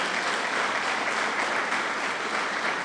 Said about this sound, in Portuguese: dê um aplauso ao Senhor, queridos